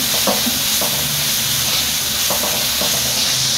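Squid-ink fried rice stirred in a hot pan after salt, stock powder and sugar go in, a steady sizzle with a few soft scraping strokes, close and continuous.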